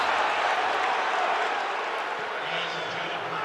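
A college football stadium crowd at a Colorado versus West Virginia game roars and murmurs in a broad, sustained wash of noise that fades slightly, with faint voices mixed in.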